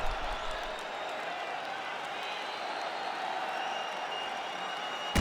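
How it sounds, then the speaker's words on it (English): A fight crowd at a UFC event cheers and applauds after a round. The noise is a dense, sustained roar that stays fairly steady throughout, with a commentator's voice mixed in. "So the crowd voicing its appreciation after that round."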